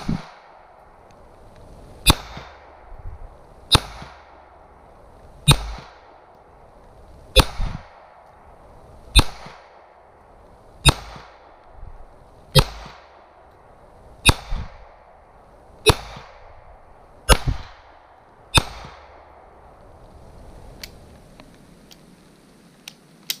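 Handgun shots fired over a Caldwell ballistic chronograph outdoors, about eleven sharp reports spaced roughly every two seconds, each with a short echoing tail, followed by quieter rustling.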